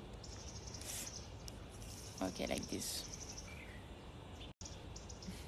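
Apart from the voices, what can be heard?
birds singing outdoors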